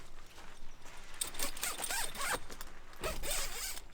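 The zipper on a Clam Quick Set Venture screen tent is pulled in a few quick, raspy strokes, close by and fairly quiet, with brief pauses between pulls.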